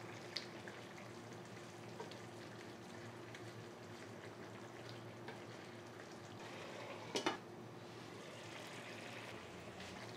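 Cauliflower curry (cauliflower mappas) sizzling and frying in a pan while being stirred, a steady soft hiss with a brief clatter of the spoon near the end, heard alone without voices.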